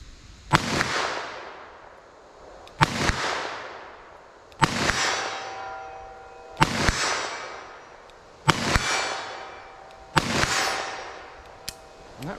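Six loud .357 Magnum revolver shots with Hornady Critical Duty rounds, fired at a metal barrier, spaced roughly two seconds apart, each a sharp crack with a long ringing decay.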